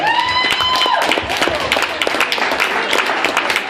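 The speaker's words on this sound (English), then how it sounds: "a big round of applause for all of our special guests" A festival crowd at a recovery celebration's general ceremonies gives a round of applause for special guests, loud, continuous clapping with a brief tonal whistle or cheer at the start and voices mixed underneath.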